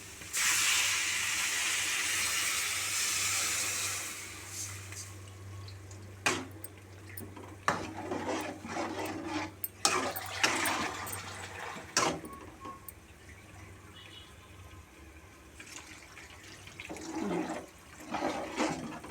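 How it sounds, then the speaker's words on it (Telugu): Water is poured into goat tripe curry cooking in a pot, with a rushing, hissing pour for the first few seconds, then quieter bubbling, scattered clinks and knocks. No one speaks. "ఇప్పుడు వాటర్ పోసుకుందాం"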